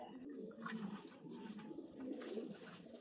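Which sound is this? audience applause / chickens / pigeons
pigeons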